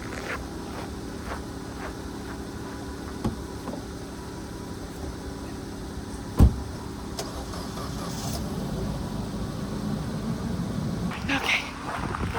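A car engine idles steadily in freezing weather after a jump start, a low even hum with a single sharp knock partway through and faint indistinct background sounds.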